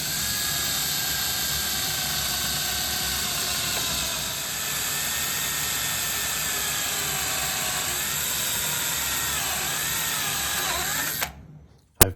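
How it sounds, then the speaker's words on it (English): A power drill whines steadily and loudly for about eleven seconds while drilling through aluminum lubricated with WD-40, its pitch wavering slightly near the end before it stops abruptly. "I'm getting ready to drill my holes."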